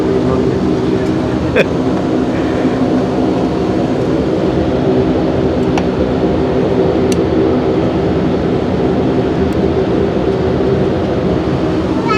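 Constant loud engine drone fills an airplane cabin in flight on a Dhaka to Cox's Bazar trip, a steady roar with faint thumps and clicks over it.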